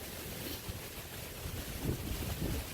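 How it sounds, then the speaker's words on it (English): Blustery outdoor air beside the Tiber River in Rome, with steady wind rumbling against the microphone and a faint wash of moving water, no voices, rising slightly toward the end. "here we are right over here by the Tiber River"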